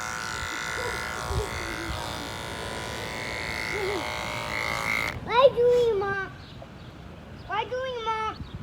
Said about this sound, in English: Don't forget to bend the ears and shave behind those as well.